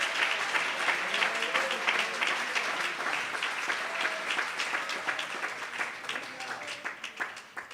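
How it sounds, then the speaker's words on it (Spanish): A church congregation applauds during a sermon, steady dense clapping from many hands filling the room throughout, fairly distant and moderately loud. "Hay un aplauso para el Señor de gloria."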